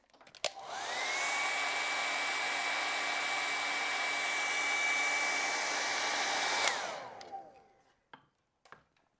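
Hair dryer drying wet watercolor paint, switched on with a rising whine, blowing a steady loud whooshing roar for about six seconds, then spinning down, followed by a few small taps.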